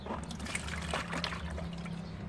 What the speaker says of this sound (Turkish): Sulandırarak biberlerimi dökeceğim.